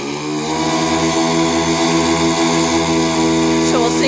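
A remote-control B-25 model plane engine runs steadily and loudly throughout, a continuous buzzing drone with strong harmonics and no pauses.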